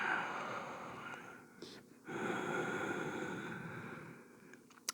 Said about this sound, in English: take one more full breath here